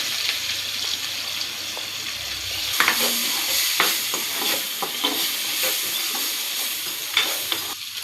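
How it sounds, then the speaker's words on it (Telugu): Sliced onions frying in hot oil left in the pan used for the paneer, with a steady close sizzle and scattered scraping stirs from a spatula, no voices. "పన్నీర్ ఎంచిన దాంట్లోనే కొంచెం ఉల్లిగడ్డలు వేస్తున్నాను అందులోనే."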